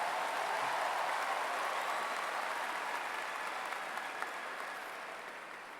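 A large crowd at a university spring commencement ceremony applauds in a continuous, fairly distant roar of clapping that slowly tapers off toward the end.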